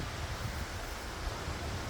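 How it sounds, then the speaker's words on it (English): Strong wind blowing steadily outdoors during a windstorm, a continuous broadband roar with microphone buffeting, loud and unbroken throughout. "Oh, it's just windy out."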